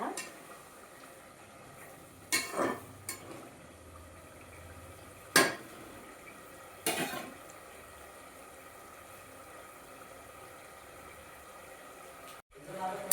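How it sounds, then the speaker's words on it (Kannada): Garlic paste, tomato and cashews fry in oil with a quiet, steady low sizzle, broken by a few sharp scrapes and knocks of a spoon against the pan. "ಇದು ಚೆನ್ನಾಗಿ ಫ್ರೈ ಆಗೋವರೆಗೂ ನಾನು ಎಣ್ಣೆಯಲ್ಲಿ ಕಾಯಿಸ್ಕೊಳ್ತಾ ಇದ್ದೀನಿ"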